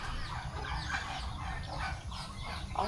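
Chickens clucking and calling together, with a single guinea fowl mixed among the flock, a steady busy chatter of bird calls close by with no talking.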